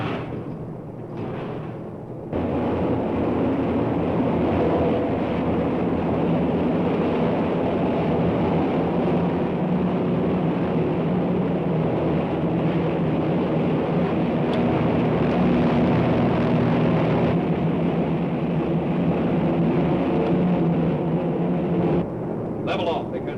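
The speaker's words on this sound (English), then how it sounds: "Patrol plane trying to follow us." A patrol plane's engine drones in flight in a 1937 serial, a loud, steady roar that starts abruptly after a short pause and holds level throughout, with speech over it.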